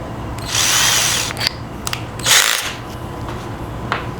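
A power drill whirs in two bursts, the first long and steady, the second shorter, with small clicks and handling noise between them.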